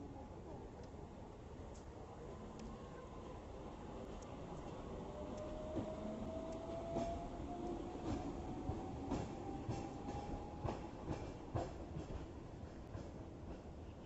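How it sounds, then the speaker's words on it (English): Hong Kong's Peak Tram rolls in on its rails, a steady low rumble with clicking wheel beats and a rising squeal as it approaches, voices faintly underneath. "So this is the tram. Here it comes."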